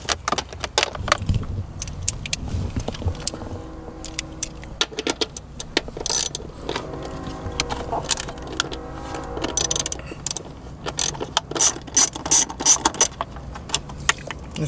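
A ratchet works loose two 10mm bolts on a car's shifter console during a short-throw shifter install, giving close, intermittent metallic clicking and light jangling in uneven bursts with no talking.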